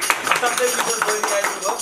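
Audience applause at a live Nepali dohori singing program, brief scattered clapping mixed with a speaking voice over it.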